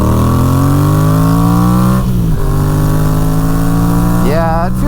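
A Yamaha XSR700 motorcycle fitted with a Power Commander V fuel controller revs up close and loud, the engine note climbing, dropping back near idle, then rising in a sharp throttle blip at the end.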